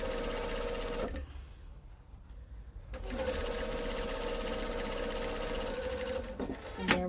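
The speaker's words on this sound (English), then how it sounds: "It's 281. It's a commercial straight needle. This machine only does straight stitch and reverse." A Dürkopp Adler 281 commercial straight-stitch sewing machine chain-stitches in loud, close bursts of steady whirring, with a brief pause between runs.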